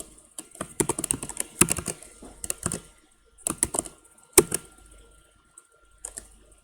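Text being typed on a computer keyboard, close and clear: irregular bursts of clicking keystrokes separated by short pauses, with one sharper key strike partway through.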